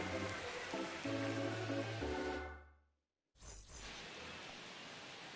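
Steady rain hiss from MLB The Show 25, a broadband wash that holds loud, cuts to near silence for a moment, then returns just as dense, with low musical tones under the first half.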